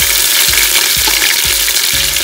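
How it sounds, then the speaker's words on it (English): Beef pieces sizzle loudly in hot fat while searing in a cast-iron potjie pot for boeuf bourguignon, a steady close frying hiss with soft periodic thumps. "we're gonna do about 3 or 4 bits of this meat at a time. And really all you're doing is sealing it, giving it a bit of color."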